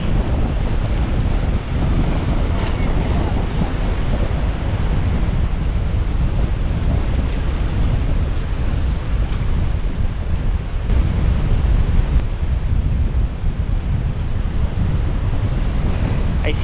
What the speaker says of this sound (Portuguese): tem muito vento, aí fica mais difícil de abrir a vela